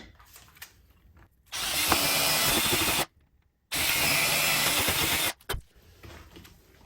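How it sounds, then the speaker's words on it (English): A power drill bores holes in a model railway baseboard in two loud steady bursts of about a second and a half each, split by a short pause, with quiet before and after. "I'm going to drill a couple of holes."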